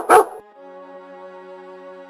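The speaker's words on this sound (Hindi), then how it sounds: "गली सुनसान थी, बस एक आवारा कुत्ता भौंक रहा था।" A single sharp bark from a stray dog in a deserted street in a 2D animation, followed by a steady, quiet tonal drone.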